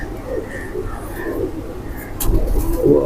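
Pigeons, cupboard-kept fancy pigeons including a golden Teddy breed, coo in soft, low murmurs throughout, a steady background of cooing with a slightly louder burst near the end.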